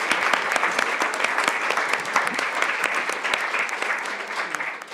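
Steady audience applause fills a lecture hall during an evening talk on the Scots language, a dense patter of many hands clapping at moderate volume for the whole stretch, with no voices over it.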